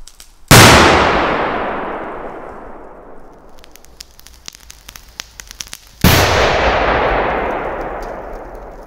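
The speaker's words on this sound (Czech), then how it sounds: "Začneme petardou Super Cobra 5." Two very loud Super Cobra 5 firecracker blasts, an 18-gram F4-category banger, each a sharp explosion with a long echoing decay, about five seconds apart, with crackling debris between them.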